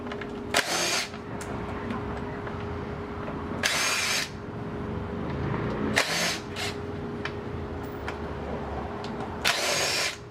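Bolts come out of a Honda Big Ruckus 250cc scooter, with four sharp, loud bursts from a power driver or impact tool spaced a few seconds apart over a low background hum.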